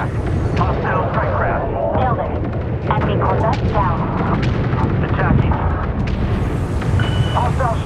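Space battle in Homeworld 3 with rapid weapons fire and booming impacts forming a continuous loud barrage, while a radio-style voice talks over the fighting.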